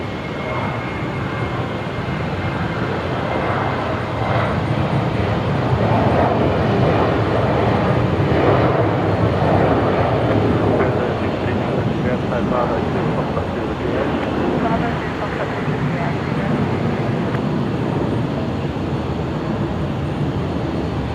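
A Qantas airliner bound for Perth roars on takeoff at Brisbane Airport, a broad sustained engine rumble that swells and holds across the whole stretch, with a voice talking over it.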